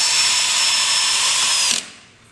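A power drill drives a screw through wire mesh over a rat hole, giving a steady high-pitched whir for under two seconds before abruptly stopping, close and loud with no talking.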